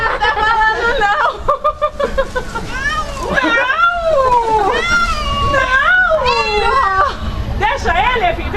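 A cat being rescued meows and cries repeatedly in drawn-out, wavering calls, close and loud, while people talk over and around it.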